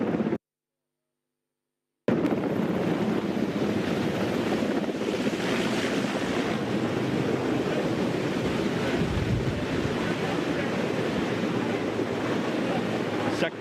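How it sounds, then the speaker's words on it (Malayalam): Helicopter rotor wash whips dust across the SKMJ school ground in Kalpetta, Wayanad, as the aircraft lands. After a brief dropout, a heavy, constant wind-like roar buffets the microphone, with faint voices barely surfacing. "ശക്തമായ പൊടിക്കാറ്റ് വീശുന്നുണ്ട് കാരണം ഹെലികോപ്റ്ററിൻ്റെ ചിറകടി ഒച്ചകൾ ഇവിടെ നമുക്ക് കാണാൻ കഴിയുന്നുണ്ട്"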